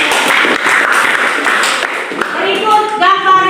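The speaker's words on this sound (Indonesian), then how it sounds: "tepuk tangan untuk kita semua" A classroom of students clapping their hands together, a busy patter of claps mixed with voices, giving way to talking near the end.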